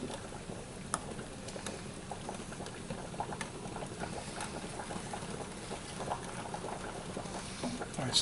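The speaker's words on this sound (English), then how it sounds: "to bring this to a medium type boil" Blackberry jam bubbles in a pot at a medium boil, a soft continuous patter of popping bubbles with faint sporadic clicks, quiet and close.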